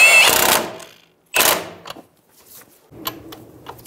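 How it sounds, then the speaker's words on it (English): A 16 mm socket wrench snugs down the outer tie rod end nut on a 2000-2007 Ford Focus: two bursts of fast ratcheting clicks, then fainter, looser clicking and handling noise, close and alone. "Using a 16 millimeter socket, we're going to snug down the nut."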